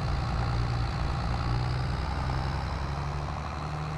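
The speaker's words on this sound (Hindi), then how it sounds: "तो यार ट्रैक्टर वैसे तो काफ़ी पावरफुल है और अभी इसे चला के भी देख लेते हैं" A powerful eight-wheeled tractor in Farming Simulator 22 pulls a slurry tanker, its engine a loud, steady, low droning rumble that holds evenly throughout without talk.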